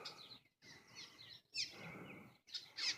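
Protective birds calling outdoors near a house, several bright chirping bursts separated by short pauses, faint and somewhat distant with no talk.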